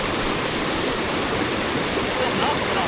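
A steady, loud roar of rushing water rises from Siddheshwar waterfall and its stream during heavy rain, a broad, even wash of sound close at hand that does not let up.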